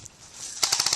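Airsoft guns firing during an outdoor skirmish in New Jersey: a faint hiss at first, then a rapid automatic burst of sharp, crisp clicking shots in quick succession up close.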